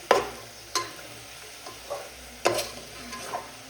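Potato chips fry in a pan of hot oil under a constant sizzle while a spoon stirs them in several distinct scraping strokes, close and clear with no talking.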